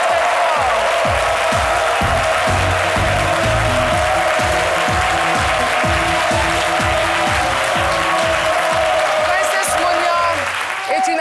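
A television studio audience on a midday talk show gives a singer a long, dense round of applause that holds steady and loud throughout, with a rhythmic musical beat running underneath.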